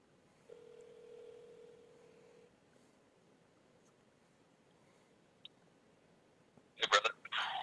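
A telephone heard over speakerphone gives a steady single-pitch tone for about two seconds, then near silence before a brief burst of dialing beeps near the end, fairly faint overall.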